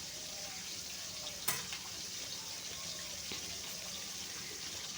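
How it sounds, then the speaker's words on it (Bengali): Rohu fish head frying in hot oil in a pan gives a steady, close sizzling hiss throughout, with one sharp clatter near the start. "সমানভাবে তেলের সাথে মাছটা ভাজা হয়।"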